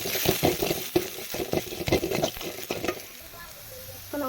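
Crushed shallots frying in hot oil with mustard seeds for a Malayalam snake gourd stir-fry, with crackling pops, clinks and stirring scrapes close by, the popping fading to a quieter sizzle near the end.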